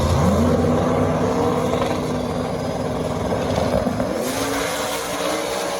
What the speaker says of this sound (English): he gave up on that one as he saw KSR go flying off